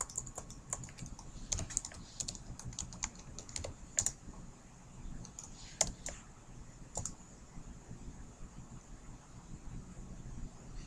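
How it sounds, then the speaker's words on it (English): Someone typing a command on a computer keyboard, irregular clusters of light key clicks with pauses between bursts, close and fairly quiet against a faint hiss of room noise. "We can now see it by typing in the watch blue screen command."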